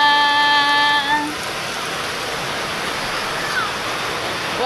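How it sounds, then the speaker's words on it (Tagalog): Heavy rain pours steadily around a house in a flood-prone area with rising floodwater, a dense continuous hiss close by; a few tonal beeps sound over it at the start, then the downpour continues alone. "Nagbabaha na naman sa paligid namin na laging binabaha."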